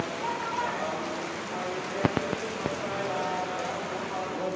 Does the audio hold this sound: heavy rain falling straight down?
yes